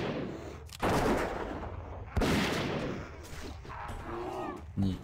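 Bursts of gunfire from a dwarf hunter in World of Warcraft, three loud sharp shots spaced over a few seconds against a busy game soundtrack, with faint talk in the background.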